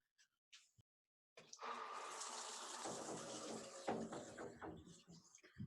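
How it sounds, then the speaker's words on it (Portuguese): A shower in a home bathroom is turned on, and after brief quiet a sudden rush of spraying water begins and continues steadily, fairly faint and distant. "Eu vou agora ligar o chuveiro no banheiro"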